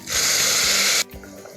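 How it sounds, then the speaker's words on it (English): Boiling water hits a hot pan of sautéed rice and spices, giving one loud, close hissing rush for about a second that cuts off abruptly into quiet simmering. "Now let us add the boiling water."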